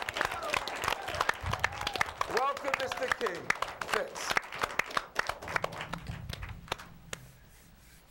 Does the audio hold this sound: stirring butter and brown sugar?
no